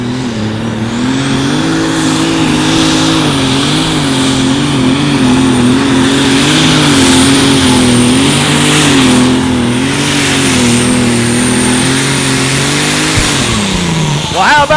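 An unlimited super stock pulling tractor at a 2018 Outlaw Pulling event in Madison, South Dakota, roars loud and close at a sustained heavy pitch, wavering slightly, before dropping off abruptly near the end.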